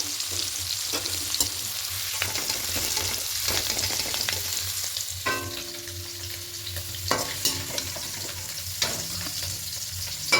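Paneer frying in oil in a wok: a continuous soft crackle and hiss, broken by spatula knocks and scraping against the pan, heard close with no voices.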